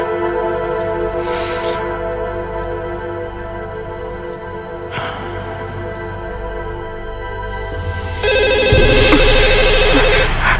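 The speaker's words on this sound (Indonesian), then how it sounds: "Mudah-mudahan itu telepon dari Tuan Harry" A telephone rings in an Indonesian television drama, with repeated electronic trills that stand out over a quiet room tone and grow louder near the end, and no talking.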